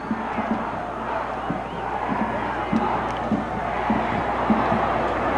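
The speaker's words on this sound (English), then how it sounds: "And the crowd, Paul, this is almost deafening." A large crowd at the 1976 Junior College Rose Bowl football game roars continuously, a broad rumbling din with recurring bursts of cheering and whoops rising above it.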